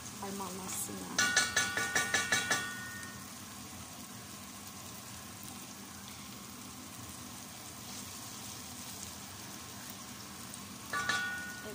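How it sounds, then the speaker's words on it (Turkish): Tomato paste fries in a pan with a brief burst of crackling sizzle and stirring scrapes, then a softer steady simmer, with another short scrape near the end. "Biraz salçanın da pişmesini bekliyorum."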